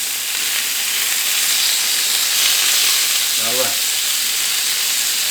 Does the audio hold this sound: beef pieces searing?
yes